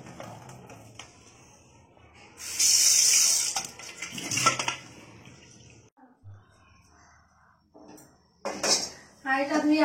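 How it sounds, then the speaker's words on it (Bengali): A cooking pot is washed under running water, with bursts of gushing water and clattering metal pot and utensil sounds, close and intermittent between quieter pauses. "হাঁড়িটা ধুয়ে আবার বসিয়ে দিয়েছি।"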